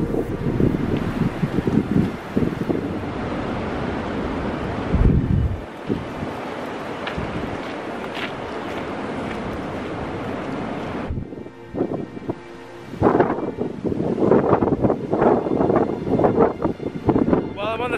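Strong wind buffets the microphone on a low hill summit about 170 metres high, roaring in heavy gusts with brief lulls, loud and close throughout.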